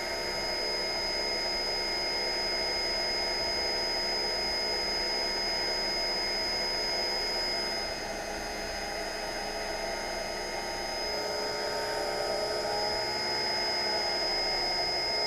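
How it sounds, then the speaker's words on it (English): A Scaleauto truer grinding wheel trues a slot car tire with a steady high-pitched motorized whine and grinding hiss, continuous and close for the whole stretch with only a slight dip midway. "we're now up against the grinding wheel"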